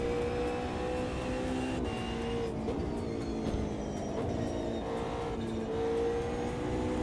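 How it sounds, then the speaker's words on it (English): A race car engine in the Automobilista 2 racing game drones steadily through the whole stretch, its tone rising and falling with gear changes and throttle, with no talking over it. "This car sounds pretty good"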